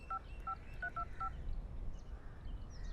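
A mobile phone keypad sounds a quick run of about five dialing tones as a number is entered, clear and close above a steady background hum.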